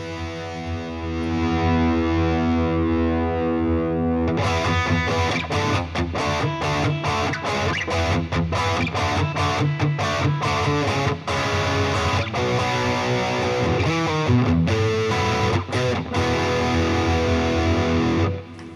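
Distorted high-gain electric guitar through a Bogner Überschall amp model on a Boss IR200 pedal, opening with a sustained ringing chord, then chugging, palm-muted riffs with sharp stops, loud and unaccompanied.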